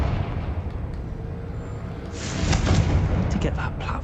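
A Confringo fire-blast spell goes off in Hogwarts Legacy, a loud rumbling burst that swells midway and rolls on with crackling debris over a steady low game background.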